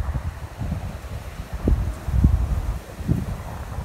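Outdoor wind buffets the microphone in uneven low rumbling gusts that swell and fade across the whole stretch, with no other clear sound.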